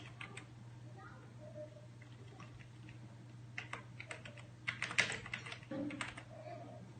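Keys clatter on a computer keyboard as text is typed into the Tux Paint drawing program, with quiet scattered keystrokes early and a denser burst of taps in the second half over a faint background hum.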